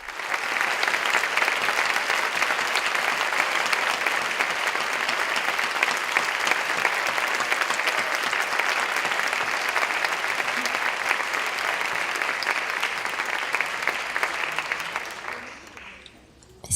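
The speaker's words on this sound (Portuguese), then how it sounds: "A plateia aplaude intensamente a leitura de Geni e," A large audience at a Sesc talk applauds intensely after a reading, a dense, continuous roar of clapping that holds steady for about fifteen seconds before tapering off at the end.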